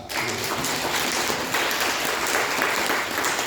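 Thick, continuous applause fills a seminar hall as a large audience claps steadily and loudly throughout, with no voices over it.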